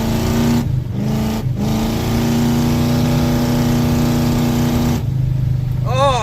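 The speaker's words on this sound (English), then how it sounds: "here we are, cruising along at 80 kilometers an hour. And as I expected, it's basically unbearably loud." Loud, steady diesel drone of a 1984 Chevy truck with a 6.2 diesel and hood stacks, heard from inside the cab while cruising at about 80 km/h, with someone talking over the engine throughout.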